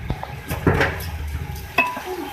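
Rice pours into a pot of beef pulao masala, a short rustle with a few metal clinks and scrapes against the pot, close and fairly quiet, with no talking.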